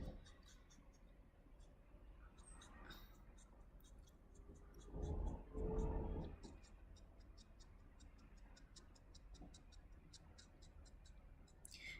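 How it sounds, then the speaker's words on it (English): A Copic marker shading and colouring fur on paper: quiet scratchy strokes that swell into two longer, louder rubbing passes, with faint steady ticking in the background. "as you're shading and coloring in"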